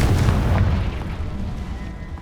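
The Confringo fire spell explodes in the Hogwarts Legacy video game, a loud, deep booming blast that rumbles and slowly fades over a couple of seconds.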